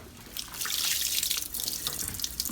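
Liquid drained from cooked sloppy joe ground meat pours steadily into a kitchen sink, a continuous close splashing rush of water-like flow with no talking.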